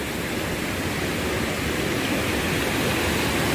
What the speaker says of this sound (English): these are pretty cool falls